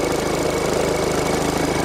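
A vehicle engine idles steadily right after being started with a battery booster pack, a close, continuous even rumble with no talk over it.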